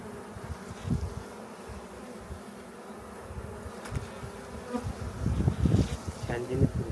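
Honeybees buzz steadily around a hive at an apiary in Çatalca, Istanbul, a dense droning hum with individual insects flying close past now and then, as a new bee emerges.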